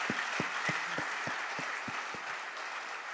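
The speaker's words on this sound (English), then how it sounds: "yes, you can clap your hands for Christ" A church congregation at New Life Bible Church claps their hands in an even rhythm, about nine distinct claps at a steady pace, moderately faint over a soft room background.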